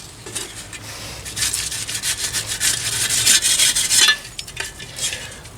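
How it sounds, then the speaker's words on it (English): A metal scraper rasps steadily across the slide plate of a Pit Boss Lexington pellet grill, a close, continuous scraping that swells and eases with each stroke before briefly pausing. "we'll take a scraper to the old slide plate"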